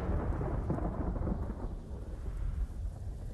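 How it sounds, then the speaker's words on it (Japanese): Rolling thunder from the video game Ghost of Tsushima, a loud, continuous rumble that swells slightly and then eases, with no voices over it. "雷の音すご。"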